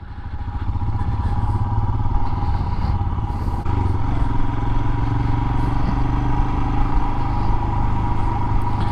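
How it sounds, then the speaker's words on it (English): Royal Enfield Himalayan motorcycle engine on a test ride, a loud, close, continuous rumbling drone like a dirt bike with a steady idle-to-cruise throb and no voices. "It has the sound of a dirt bike."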